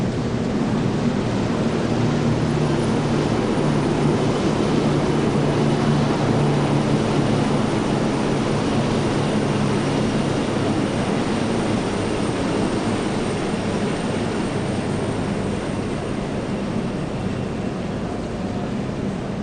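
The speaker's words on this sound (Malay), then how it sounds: "Lintas hormat oleh helikopter menandakan keberangkatan Sri Paduka Baginda Tuanku" Helicopters making a ceremonial flypast over a national day parade in Malaysia, a loud, continuous rotor and engine roar with a wind-like wash that holds steady throughout, with no talk.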